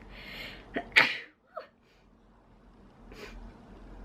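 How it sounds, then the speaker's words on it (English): A single sharp sneeze bursts out after a quick inhaled breath, followed by a short snort and a faint exhale in a quiet room. "Wait, I think I need to sneeze."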